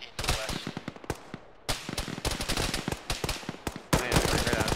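Rapid bursts of automatic gunfire and single shots crack in an Arma military simulation firefight, loud and dense with short pauses, with occasional voices underneath.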